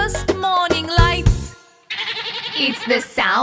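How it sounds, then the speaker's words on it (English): After a stretch of upbeat children's song music and a short pause, a goat bleats in a shaky, quavering voice, sounding close and fairly loud over light musical backing. "It's the sound of a goat."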